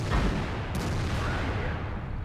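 A tank cannon fires in World of Tanks with a heavy, muffled boom that rolls into a sustained low rumble. It sits loud and close for the whole stretch.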